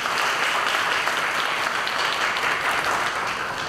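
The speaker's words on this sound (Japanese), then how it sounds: "拍手お願いします。" Steady, dense audience applause fills a Japanese lecture hall at a gymnastics talk and welcome event, continuous clapping from a sizeable crowd at even loudness throughout, no voices over it.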